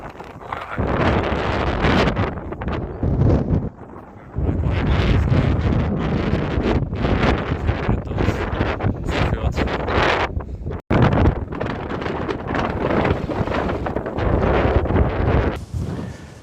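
Strong outdoor wind buffeting a camera microphone on a low tripod in warm weather, a loud continuous roaring rumble with gusty surges and one brief dropout.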